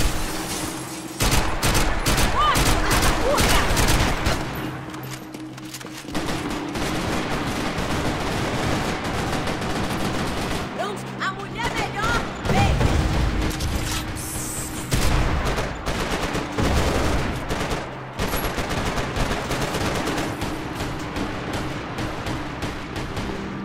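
Gunfire in the video game Max Payne 3 during an Xbox 360 team deathmatch, dense rapid bursts of automatic shots and heavy bangs continuing loudly almost without pause.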